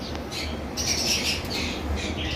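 Harsh squawks from albino pet birds repeat over a steady background hum, fairly close and moderately loud, with no one speaking.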